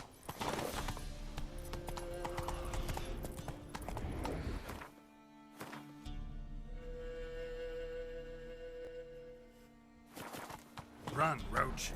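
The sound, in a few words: horse Roach galloping in video game The Witcher 3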